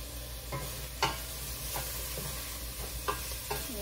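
Beef sautés in a hot pan with a steady close sizzle, and a spoon scrapes through it in about six quick stirring strokes at uneven intervals, with no talking.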